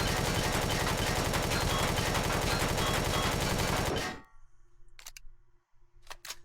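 Sustained rapid-fire shooting at a core in the Empyrion: Galactic Survival video game: a loud, fast stream of shots for about four seconds, then an abrupt stop followed by a few faint, sparse clicks and quiet.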